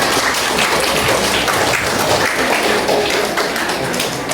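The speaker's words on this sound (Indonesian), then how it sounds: "Ya bisa juga tepuk tangan." Audience at a school graduation and farewell ceremony applauding, a dense, loud, steady wash of many hands clapping together without a break, and no voices over it.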